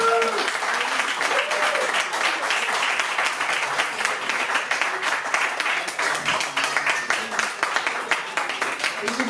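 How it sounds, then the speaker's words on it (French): A crowd at a live concert in Nice applauds steadily, dense clapping sustained throughout with a few faint voices mixed in. "je vais vous demander s'il vous plaît un tonnerre d'applaudissements pour Cyril qui se trouve ici"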